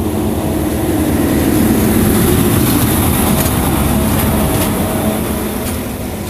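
Sri Lelawangsa commuter train running between Medan and Binjai, heard from inside a carriage: a steady, loud rumble of wheels and engine with rhythmic rail clatter, continuous throughout and slightly fading toward the end.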